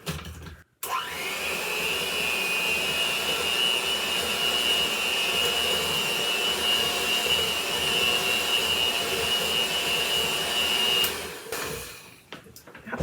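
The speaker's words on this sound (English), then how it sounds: "we're going to mix this up with our mixer a little bit." An electric mixer whirs steadily through pumpkin cookie batter, a loud, even motor whine that runs for about ten seconds before cutting off.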